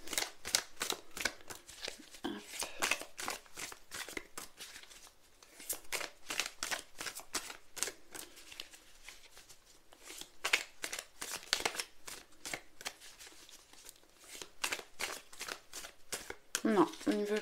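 Tarot cards shuffled by hand in a quiet room, rapid papery riffles and slaps in bursts with brief pauses as cards are drawn, while a person speaks softly at times.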